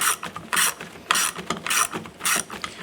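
Self-tapping screws cut threads into the unthreaded plastic of a 2011–2018 Ram tailgate handle, heard as four close, loud ratcheting bursts in an even rhythm.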